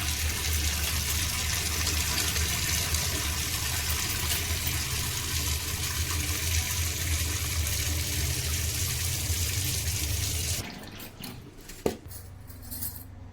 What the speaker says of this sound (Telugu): స్టవ్ పైన వాటర్లో కడుగుతున్నాను